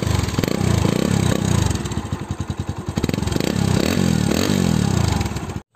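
Bajaj Pulsar NS160 BS4 motorcycle exhaust idling and revving close by, a loud throaty burble with a stretch of rapid pulsing throttle blips between steadier revs.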